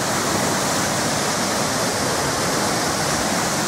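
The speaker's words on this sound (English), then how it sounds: "That really is a quality waterfall." Cauldron Snout waterfall on the River Tees roars as a loud, continuous broadband rush of falling water, steady and close throughout with no voices.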